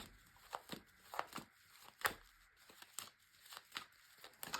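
Tarot cards being shuffled during a weekly reading, a soft run of crisp riffling and flicking bursts repeating every half second or so, close and fairly quiet with no talk.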